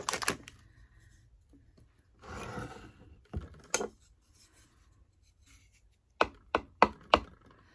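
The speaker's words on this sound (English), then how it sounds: "So I'm scraping it along the edge of the bottle and it's going in." An item scraped along the edge of a bottle during a trash-to-treasure Halloween craft, heard as several short, sharp scraping strokes, a brief rubbing burst and then a quick run of four close, crisp scrapes near the end, with no talking.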